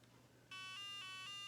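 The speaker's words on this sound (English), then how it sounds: "I bought new batteries, put them in today, and it's beeping away at me." An electronic LCD Dungeons and Dragons handheld game, powered by fresh batteries, gives off repeated high electronic beeps in a steady pulsing pattern, fairly clear over a quiet background.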